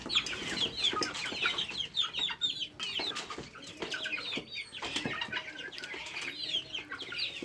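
Two-month-old chicks cluck and peep in a busy, overlapping chorus close by, with soft flutters and pecking sounds scattered throughout.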